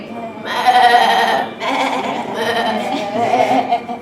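A person imitates sheep with a few wavering bleats, loud and close, repeated in quick succession.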